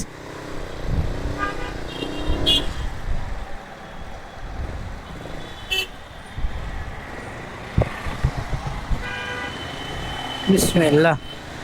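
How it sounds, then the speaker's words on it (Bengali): A motorbike ridden out past traffic near BAF Shaheen College in Dhaka, an engine rumble under nearby voices, with passing vehicles, short horn toots and a rising honk at the close. "আমি তার সামনে দিয়ে বাইক চালাচ্ছি"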